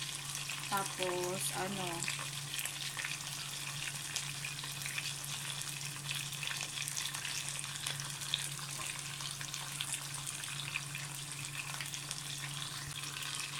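Salmon seasoned with black pepper frying in a non-stick pan, a steady close sizzle running throughout with a brief voice speaking early on.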